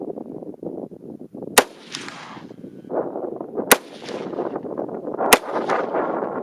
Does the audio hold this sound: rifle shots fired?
yes